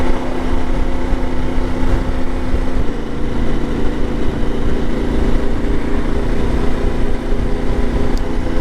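Steady, loud engine drone from a CSC IBEX 450 motorcycle cruising at relaxed revs on a commute, with continuous wind rush and a small shift in engine pitch partway through.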